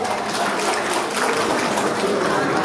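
Broad, steady applause fills the hall at the opening of a hometown association's year-end general meeting and gala, sustained and dense throughout without a break.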